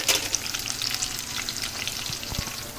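Chicken curry fries in a pan over a low gas flame, giving a soft, steady sizzle with a few light stirring knocks near the end and no speech.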